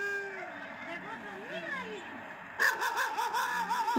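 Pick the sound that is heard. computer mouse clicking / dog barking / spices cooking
dog barking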